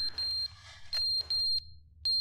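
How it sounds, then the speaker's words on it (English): Smoke alarm chirping a low-battery warning inside The Stanley Parable, short high electronic beeps repeating at intervals over a low hum, faint and alone. "Hey, you need to change the batteries on your smoke alarm"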